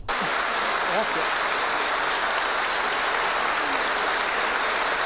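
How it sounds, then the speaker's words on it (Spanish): Sustained applause fills a packed regional parliament chamber, a dense steady wash of clapping lasting throughout without pause. "Concha Andreu recibía esta gran ovación por un Parlamento completamente abarrotado en la sesión de hoy."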